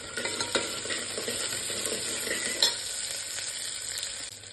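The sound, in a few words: garlic and curry leaves frying in pan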